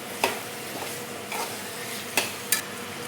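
Chicken pieces frying in a pan, a soft steady sizzle broken by a few sharp scrapes and clinks of a utensil stirring them, close and without talk.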